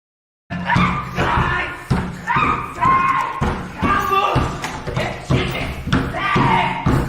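Heavy, repeated thuds and bangs on a locked door, loud and close, landing in an uneven rhythm under constant shouting and laughter from several men.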